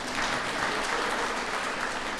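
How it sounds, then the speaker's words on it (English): A birthday celebration audience applauds for a governor, a dense, continuous clapping that stays even and fairly loud throughout the short stretch. "Let's give him a good hand."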